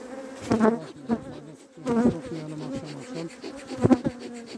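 Honey bees at their hives drone in a steady, busy hum, with a few louder buzzes passing close by over a constant background of wingbeats.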